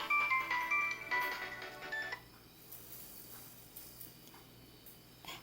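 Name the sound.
mobile phone ringing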